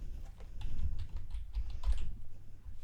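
Keys clack on a computer keyboard in a quick, uneven run of soft taps, close and moderately quiet with no talking.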